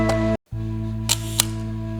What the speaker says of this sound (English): This was the magic sound of the Nikon F2 shutter.